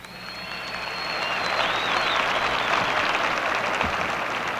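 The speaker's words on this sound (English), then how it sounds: "I believe that's the first round of applause I've ever received in Texas" An audience in Texas breaks into sustained applause for former Green Bay Packers guard Jerry Kramer, the clapping swelling within the first second and holding as a broad, steady wash, with faint whistling near the start.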